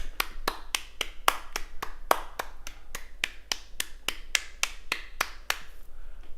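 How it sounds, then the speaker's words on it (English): A single person claps along in a steady rhythm, about sixteen sharp, evenly spaced claps close to the microphone, with a low hum underneath and no voices. "Let's do the DSP Denthead clap along"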